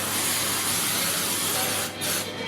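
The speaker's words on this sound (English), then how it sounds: "Just use a spray. Doesn't matter which spray you use, and just give it a really good spray inside." Cooking spray hissing steadily from a can as it coats the inside of a bundt tin, a close, continuous aerosol spray with a brief dip near the end, and no talk.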